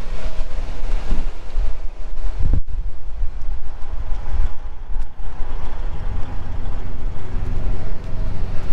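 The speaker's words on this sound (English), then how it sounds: "It is windy out too." Outdoors, wind buffets a GoPro camera's microphone, a loud, continuous low rumble with gusty thumps and one sharp blast near the start.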